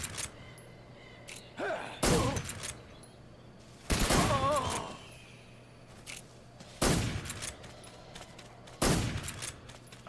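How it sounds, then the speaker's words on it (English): Gunfire in Metal Gear Solid 3: Snake Eater rings out in a forest setting as several separate loud bursts and thuds, spaced a couple of seconds apart over a steady low hum. "I just shot him a bunch there"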